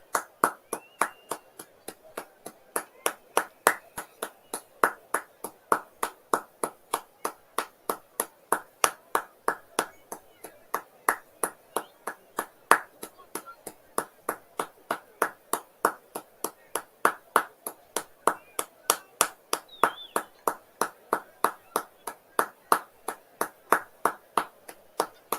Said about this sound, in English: a minute's applause now for a former Liverpool player who died